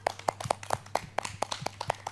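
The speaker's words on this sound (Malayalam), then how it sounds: "എല്ലാവരും ക്ലാപ്പ് ചെയ്യാം." Several people at a Christmas party clap together in a quick, steady rhythm, a run of sharp, even claps at moderate volume with no talking over them.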